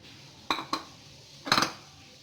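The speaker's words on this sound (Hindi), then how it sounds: "इस तरफ कढ़ाई में हम ये सारी चीज़ें एक साथ डाल देंगे।" Ingredients go into a karahi wok for green chilli chicken karahi, making a few short metallic clinks and clatters: two quick knocks, then a brief cluster of rattling impacts, close and fairly soft against a quiet kitchen background.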